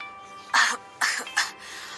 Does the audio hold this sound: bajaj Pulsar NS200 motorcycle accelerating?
no